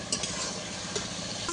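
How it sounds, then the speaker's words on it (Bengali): Spice paste stir-fried in a pan gives a dense, continuous sizzle with a couple of quick scrapes from a spoon, close and steady throughout. "যতক্ষণ না মশলা থেকে কাঁচা গন্ধ চলে যায় ততক্ষণ আমি কষাতে থাকবো"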